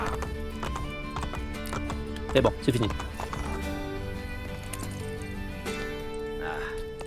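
Horse hooves clip-clop in Assassin's Creed Brotherhood, a steady trotting patter with a brief neigh, running under game music and a voice speaking French near the end.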